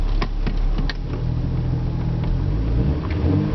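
A vehicle driving at a homestead, with a steady low engine rumble and occasional knocks and rattles, fairly loud and continuous.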